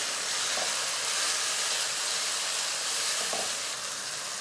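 Tomatoes hit a pan of browned, sizzling fried garlic and onion, producing a steady, close, hissing sizzle with faint stirring clicks, and no one speaking.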